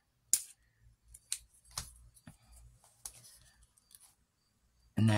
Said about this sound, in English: I'm going to use another little piece, but I got to cut it.